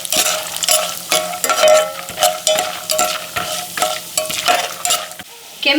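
Chana dal, urad dal and peanuts roasting in a hot pan while being stirred, giving steady close sizzling with repeated scraping and clinking strokes of the spoon and no voices.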